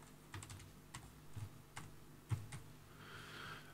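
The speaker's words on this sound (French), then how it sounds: "je pourrais le taper directement dans le moteur de recherche" Computer keyboard typing during a Cubase 12 MIDI Remote setup, a few scattered light keystrokes over a low background hum, quiet and close, with no talking.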